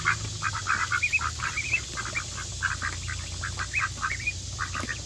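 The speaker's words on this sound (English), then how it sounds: "Everybody's interested in these little ducks." Little ducks in a pond quack in a steady, close run of short nasal calls, with a low background hum underneath.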